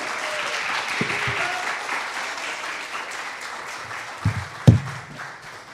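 Ongoing crowd applause, moderately loud, with a few sharper knocks and thumps standing out near the end.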